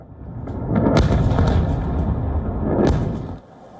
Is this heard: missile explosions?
yes